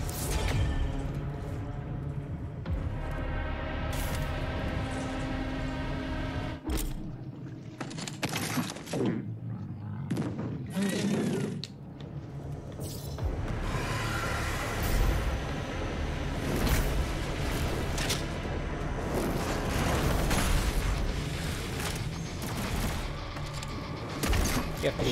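A grenade weapon fires repeatedly in Doom Eternal on Xbox One X. Loud blasts, gunfire bursts and whooshes play over a dense, continuous game soundscape while someone talks.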